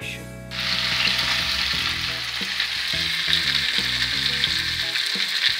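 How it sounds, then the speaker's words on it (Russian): Fish fries in a pan with a constant bright sizzle that starts suddenly and then holds steady, over faint low tonal background sounds. "Ну вот, моя рыбка жарится."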